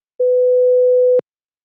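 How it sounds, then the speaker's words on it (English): Two sine waves, A and C, are added together and played in Praat as one steady tone. It sounds alone for about a second, then cuts off cleanly with a soft click at each end. "adding the sine wave A and C"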